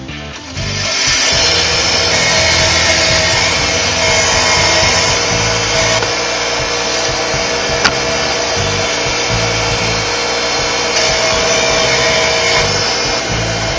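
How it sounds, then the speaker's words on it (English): Wire wheel on a bench buffer working a black buck antelope horn, a steady abrasive whir and scratchy rubbing that holds loud and constant with small changes in pressure throughout. "So what we're going to start with is the wire wheel on this side here."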